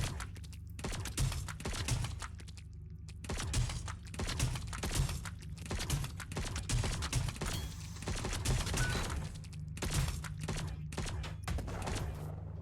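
Gunfire from a weapon in a video game: a long run of quiet, irregular shots and clattering impacts over a low steady hum, bursts of firing broken by a few short pauses, with no voices.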